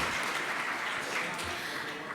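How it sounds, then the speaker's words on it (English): Audience applause for the speakers closing a plenary session at a regional forum, a steady broadband clatter of many hands held at even loudness throughout. "let's give our speakers a big round of applause"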